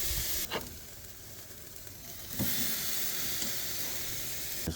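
Steak searing on a grill over open fire gives a steady, close sizzle and hiss, with two brief pops and a louder surge of sizzling partway through as the meat settles.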